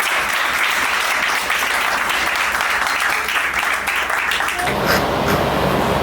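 Sustained crowd clapping fills a civil wedding ceremony between a Gabonese and French couple, loud and even, with a slight shift in the room sound near the end and no speech on top.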